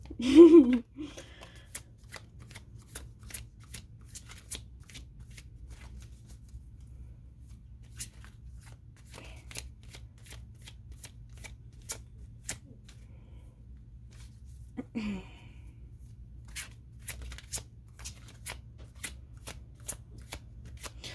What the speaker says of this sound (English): Let us start shuffling.